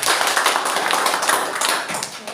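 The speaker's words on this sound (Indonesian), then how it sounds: "Tepuk tangan dong buat kebenaran firman Tuhan." A church congregation claps together in a short burst of dense, bright hand claps, steady for about two seconds before tapering off.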